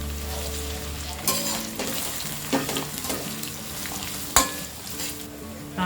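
Onions and curry leaves frying in oil over a medium flame, a steady sizzle broken by several sharp stirring scrapes and clinks of a spoon against the pan.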